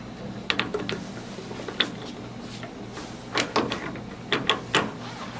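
A sample is loaded into a PDP 2K laboratory testing machine with scattered metallic clicks, scrapes and clunks of handled parts. The sounds come in short irregular bursts at moderate loudness over a steady low hum.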